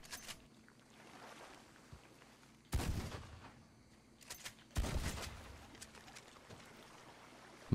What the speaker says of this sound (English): Take a couple shots at him.